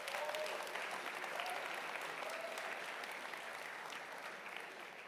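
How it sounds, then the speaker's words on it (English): Sustained audience applause fills a hall at a ColorOS 7 smartphone software launch event, a steady wash of many hands clapping at moderate distance with faint tonal bits from the room's audio underneath. "a big round of applause for the ColorOS team"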